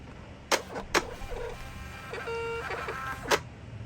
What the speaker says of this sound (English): Okay, so I'm going to go ahead and hit print.